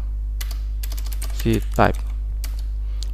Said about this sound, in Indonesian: kemudian ketik tanda pipe seperti ini, baru ketik grep, baru yang pertama kita ketik ctype